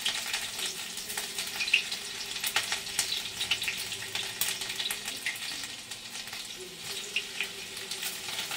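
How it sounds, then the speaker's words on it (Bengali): Chopped green chilli fries in hot oil, a steady close sizzle dotted with sharp crackles and pops that rise and fall over several seconds, heard alone. "এই দেখো ফার্স্টেই দিয়ে দিলাম লঙ্কা কুচিটা"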